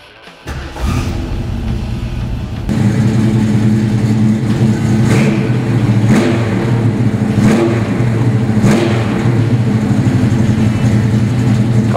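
A 1968 Ford Mustang coupe's engine cranks and starts, settling into a rumbling idle, then revs repeatedly in sharp bursts, loud and close.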